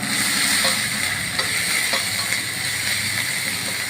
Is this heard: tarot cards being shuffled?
no